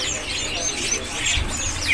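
Irian magpie-robins at a bird market give bright chirps and whistled notes over a busy, murmuring background, with several overlapping calls at moderate distance.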